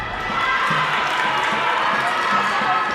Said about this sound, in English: The rest of the team picks up a cheer.